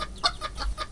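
A hen gives a few quick, sharp clucks close at hand, short bursts in an uneven rhythm over low background noise, with no one speaking.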